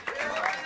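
Audience applause at Smalls Jazz Club after a nonet member is introduced, a brief burst of clapping from a small crowd, fairly close.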